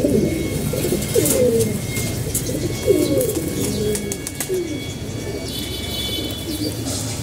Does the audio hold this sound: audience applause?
no